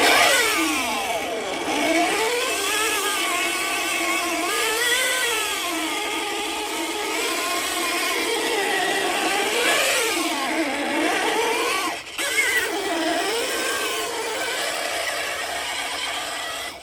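A 6S off-road RC car, a YK41011 upgraded into a mud truck, drives with its electric motor screaming: a loud, continuous high whine that sweeps up and down with speed and drops out briefly near the end.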